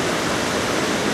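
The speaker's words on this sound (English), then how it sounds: "So here we have a wonderful river." A wide green river near the ruins of Aspendos in Turkey, running clean toward a dam, gives a steady, dense broadband rush of flowing water that holds constant and close with no voices.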